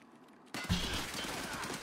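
AK rifle fire in a first-person shooter video game: a short quiet moment, then a sudden loud burst of rapid shots that stays dense and sustained until the end.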